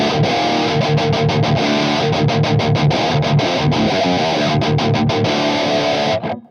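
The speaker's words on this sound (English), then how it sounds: "It sounds like a distorted amplifier, an heavy gain amplifier." A heavily distorted electric guitar through a guitar pedal with an impulse response, emulating a heavy gain amplifier, chugs out dense, saturated chords at high volume, ringing continuously before cutting off abruptly near the end.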